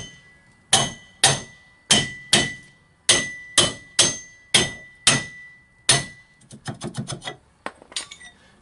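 A hammer taps a pipe into a rusted trailer hitch receiver: about ten loud, evenly spaced metallic blows, then a quicker cluster of lighter clinking strikes near the end, with no talking.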